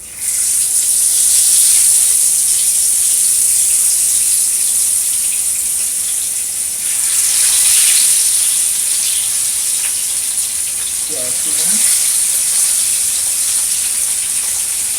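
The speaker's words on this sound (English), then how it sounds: "Now we're going to get this fish frying. I can tell the grease is hot already." Loud, continuous sizzling and crackling hiss of fish frying in hot grease, steady throughout with slight swells, close up and with no talking.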